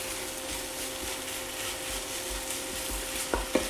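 A crustless quiche filling cooking in a pan gives a continuous soft sizzle, with a few stirring scrapes and two clear knocks of a utensil near the end.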